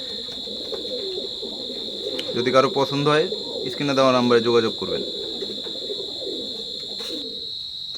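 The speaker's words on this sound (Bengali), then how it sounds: "কবুতর খুবই চঞ্চল ও এক জায়গায় দাঁড়াইতে চাচ্ছে না" A pair of teddy pigeons coos in two clear bouts near the middle, close and fairly loud over a steady high background hum, with a person talking at the end.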